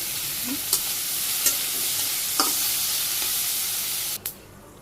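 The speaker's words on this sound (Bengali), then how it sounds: "এই মাছ অর্ধেক ভাজি হয়ে গেছে পেঁয়াজ দিয়ে দিলাম আর একটু ভাজি করে নামিয়ে নিই" Fish frying with onion and green chili in hot oil in a village kitchen pan, a steady loud sizzle with a few scraping stirs of the spatula, close by, dropping away abruptly near the end.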